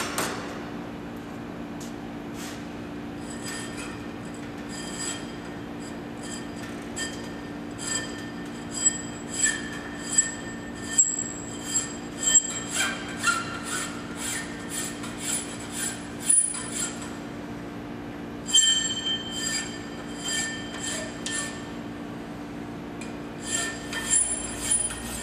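Hand file working a steel drill gauge, draw-filing a surface in a machine shop, heard as rhythmic scraping strokes that recur at a steady pace over a constant low hum, with no talk.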